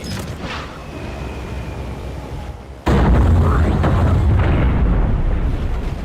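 A large bomb explosion from a Hindi-dubbed war film erupts suddenly into a loud, sustained rumbling roar after a quieter stretch of distant rumble and mechanical noise.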